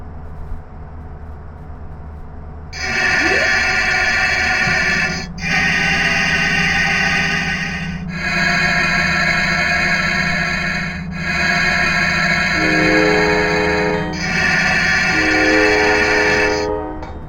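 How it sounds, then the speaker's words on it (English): Loud, piercing brake squeal from an Amtrak Northeast Regional train between New York and Washington, a harsh sustained metallic screech that wavers and briefly dips between long stretches, alone without talk. "the brakes can be kind of loud"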